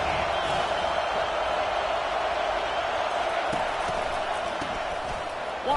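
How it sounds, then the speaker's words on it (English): Stadium crowd roar in the NCAA 25 college football video game, a dense, steady wall of noise from a home crowd rallying behind the defense on third down, holding at a constant loud level throughout. "Decibels rising as the crowd gets behind this defense on third down."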